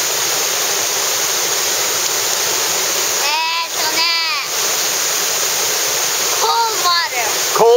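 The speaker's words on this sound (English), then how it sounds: "What do you want to call these waterfalls?" Broad, steady roar of a waterfall on a woodland walk, loud and continuous, with a man and someone briefly speaking over the rushing water.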